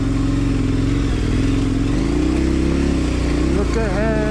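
A 500-plus-pound adventure motorcycle engine drones steadily while riding, its pitch shifting and rising toward the end, loud and continuous with wind noise around it.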